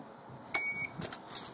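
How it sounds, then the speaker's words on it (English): An apartment RFID entry reader gives a single short, thin electronic beep, followed moments later by faint, soft clicks of the door lock releasing, heard close in a quiet room. "it's going to beep once, telling you have access, and then you're going to hear a little click"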